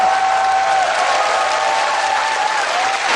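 An audience at a Korean political talk event gives steady, dense applause that stays loud and continuous throughout.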